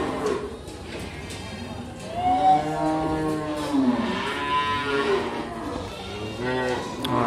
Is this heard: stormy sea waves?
no